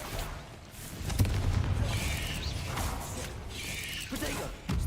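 Confringo fire spell explosions in Hogwarts Legacy: a few booming blasts with crackling debris, fairly close, layered over game noise and a voice talking.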